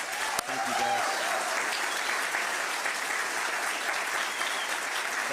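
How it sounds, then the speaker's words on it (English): Audience applause at a Titusville news conference where a governor signs legislation, a steady dense patter of many hands close by that holds evenly for several seconds, with faint voices underneath. "They deserve your round of applause."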